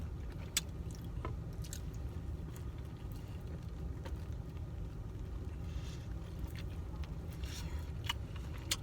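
Close, quiet chewing of spiced camel meat with rice, soft wet squishes and occasional sharper bites over a low steady background hiss, with no talking.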